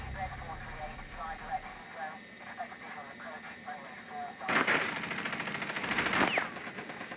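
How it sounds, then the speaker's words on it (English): Video game gunfire in Rainbow Six Siege, with rapid automatic shots punching through a barricade, fairly muffled at first and then louder bursts near the end, set over steady background game noise. "someone was shooting through the barricade the whole time"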